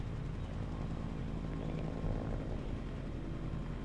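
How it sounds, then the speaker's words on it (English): A helicopter in Project Zomboid flies overhead, a steady low droning rotor hum that holds at an even, moderate level for the whole stretch with no voices. "The helicopter's just flying around."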